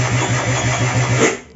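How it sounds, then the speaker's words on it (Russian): A Slider scooter engine starting: a loud, close, continuous engine roar that holds for under two seconds, with no talking. "Включаешь, блядь, вот так вот, она сейчас заводится"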